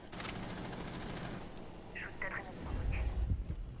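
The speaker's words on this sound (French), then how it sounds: "Et on tire comme un bourrin" Gunfire in the Rainbow Six Siege video game, a steady burst of rapid shots running through the first half, then scattered impacts and a deeper rumble near the end, all fairly loud.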